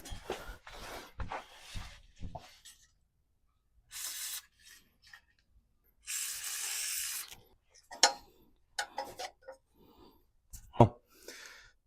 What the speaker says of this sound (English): when you use some WD-40 on the hangers, it just helps a lot with lubing up the rubber piece and getting the hangers out themselves